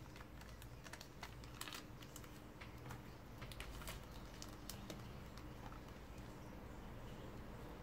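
Paper is folded into an origami butterfly, the crisp creasing and soft crinkling pats running close and quiet in a busy, irregular patter with no voices.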